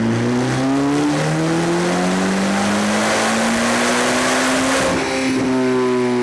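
Corvette C8 ZR1 with a JB4 tune on 93 octane, running Map 0 on a chassis dyno, roars loud and close. The engine pitch climbs steadily through a sustained pull and then drops off near the end.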